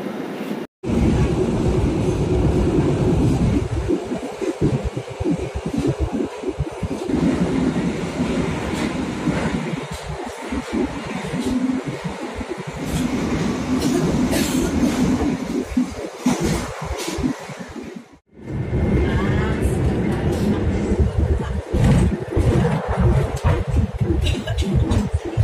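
Onboard the Jayakarta passenger train, the steady roar and rhythmic clickety-clack of wheels on rail joints carry on throughout, with a brief dropout early and another short dip in the middle before the clatter resumes.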